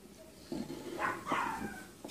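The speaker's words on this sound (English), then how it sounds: "my doggies are barking." A couple of short dog barks and whiny yips, fairly close, in a quiet room.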